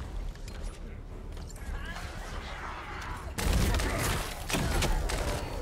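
LMG fire in the video game The First Descendant, a dense crackle of automatic gunfire and distant thuds that grows louder partway through, with voices talking over it at times.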